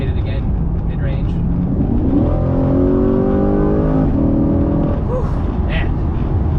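A Corvette C8 engine climbs through mid-range revs, its loud, rising drone accelerating steadily with harmonic sweeps, while someone speaks over the engine noise.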